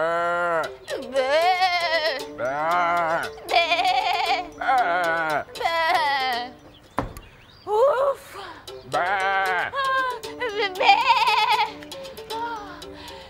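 Sheep or goat bleating, loud and close, in a string of wavering bleats with short pauses, a brief exhale-like voice heard once in the middle.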